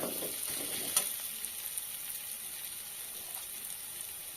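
Ginger garlic paste fries with a soft, steady crackling hiss in the pan for chicken kosha, with faint stirring scrapes here and there, quiet and close, no voices.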